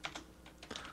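A few quiet computer keyboard keystrokes tapped in a short, uneven burst while a domain name is entered on a help desk PC, faint and close with no voices.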